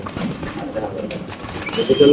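Fancy pigeons cooing at a pigeon exhibition market, soft repeated coos close by, mixed with people talking nearby.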